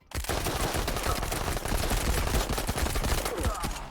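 Sustained rapid gunfire in the shooter game Marauders, a dense run of loud overlapping shots and bursts filling the whole stretch with no pause.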